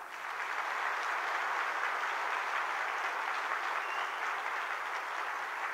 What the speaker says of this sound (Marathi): तुम्ही जोरदार टाळ्या वाजवा.